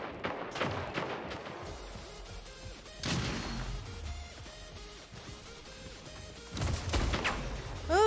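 Gunfire rings out in the video game Rebels 3, with sharp bursts of shots and crashing impacts at the start, around three seconds in and again near the end, separated by quieter stretches.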